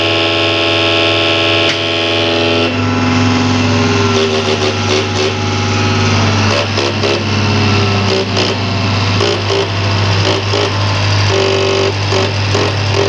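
A diesel engine on a Panther 25 held at 1250 RPM while its fuel injection pump is calibrated, giving a loud, close, steady drone with strong low humming tones and a rough buzzing texture throughout.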